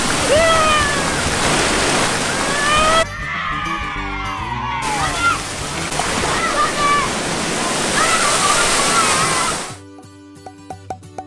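Water splashes and rushes at a sunny outdoor water park, a loud, steady wash broken by a brief quieter gap, with excited voices and shrieks mixed in and a few sharp knocks at the end.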